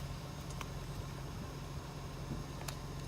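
Honda 3.5 liter V6 in a 2010 Honda Pilot idling through the exhaust, a quiet, steady low hum with a couple of faint chirps and no talking.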